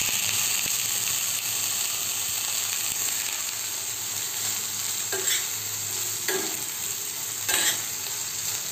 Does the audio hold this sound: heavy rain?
no